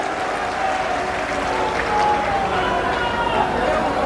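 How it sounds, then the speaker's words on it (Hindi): Crowd applause at a Bhojpuri live show, a sustained dense wash of clapping swelling slightly midway, with crowd noise mixed in under it. "इनके खातिर हमरो तरफ से ताली बजा दी जाए, आप लोग सब लोग बजा दें"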